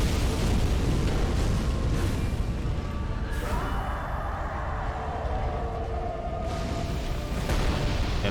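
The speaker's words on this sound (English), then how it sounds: "this is the explosion I think he had" A loud, rumbling explosion in the video game Dark Souls 3 fills the stretch with dense low roar, swelling and easing with fresh bursts near the start and end, with no speech over it.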